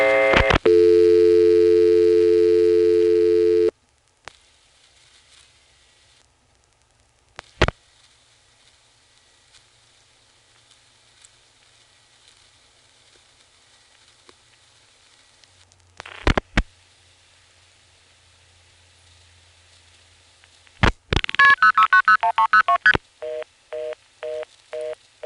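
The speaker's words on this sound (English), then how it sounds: "Let's try dialing 49 to drop, and then a 2." Dial pulses and switching clicks on an XY step-by-step telephone exchange as 49 and then 2 are dialed, with a dial tone at the start, scattered relay clacks, and a busy trunk tone pulsing steadily at the end.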